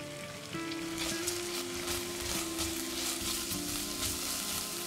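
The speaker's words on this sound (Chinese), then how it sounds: "热锅后倒入1大匙的芝麻油，油热后放入蒜头、" Garlic, ginger and scallion whites fry in a tablespoon of hot sesame oil in a cast-iron pot over medium heat, giving a steady, close, crackling sizzle with no talking.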